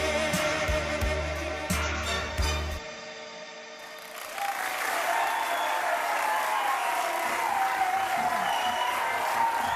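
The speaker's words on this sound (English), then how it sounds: "Applause is all for us." After a brief burst of music that cuts off, a crowd breaks into sustained applause and cheering, filling the space with steady clapping.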